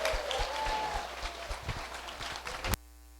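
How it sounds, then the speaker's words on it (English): A seated audience gives a round of applause at a conversation event, with dense, steady clapping that holds through most of the moment and then cuts off abruptly. "If we could just give him a nice round of applause."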